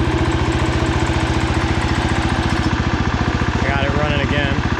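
A small engine, a 147, runs steadily after its carburetor was cleaned and it no longer needs choke, giving a close, loud, rapid even putter with a faint voice briefly over it near the end.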